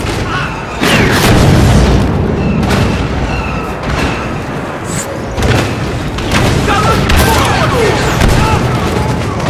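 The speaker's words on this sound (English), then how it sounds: "Airstrike incoming." Airstrike explosions in the Star Wars Battlefront Walker Assault mode on Hoth, a series of loud booms rolling over continuous battlefield gunfire and noise for the whole stretch.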